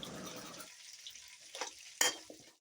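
Curry leaves dropped into hot oil with golden fried onions while cooking fish curry: a steady low frying hiss, then a sharp crackling sizzle burst near the end as the leaves hit the oil.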